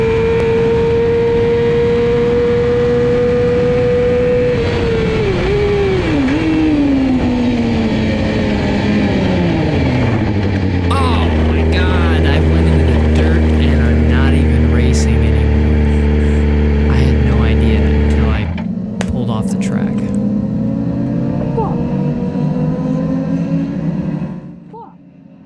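Racing motorcycle engine held at high revs on a track during a club race, loud and close, its pitch sweeping down around mid-clip before climbing again, continuous throughout with no talk.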